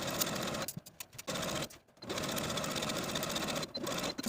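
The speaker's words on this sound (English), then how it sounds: "Now we can take these pinned sleeves to the sewing machine and sew with a 5/8 inch seam allowance" A sewing machine stitches pinned blouse sleeves with a 5/8 inch seam allowance, running steadily in close bursts broken by a few brief pauses.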